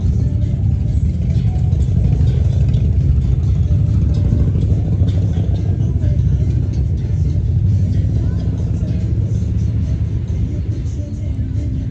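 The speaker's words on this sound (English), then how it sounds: "It's a whole motorcycle club passing by." A motorcycle club riding past on the road, a loud continuous low engine rumble that stays strong for twelve seconds and eases slightly at the end, heard close by.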